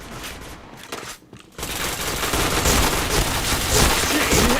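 Rapid automatic gunfire in the online shooter Point Blank, a dense continuous burst of shots after a brief lull, loud and close with no talk.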